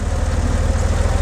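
A warmed-up Porsche 911 Carrera with a 3.2-liter engine idles steadily up close, its low, even pulsing rumble carrying on alone.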